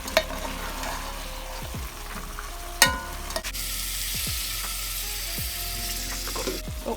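Fried Irish potatoes simmer and sizzle in a sauce in a home kitchen, with a steady frying hiss throughout and a few scraping stirs or clinks of a utensil against the pan, with no voices.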